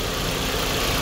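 Maruti Suzuki Swift VXI 2023 petrol engine idling, a steady, even low hum heard close for a moment with no talk.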